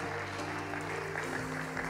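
A church congregation claps at moderate level during a worship service, with sustained musical tones playing steadily underneath the applause.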